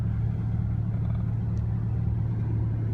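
Porsche 997 engine idling, a steady low rumble with an even hum that holds constant and close, with no talk over it.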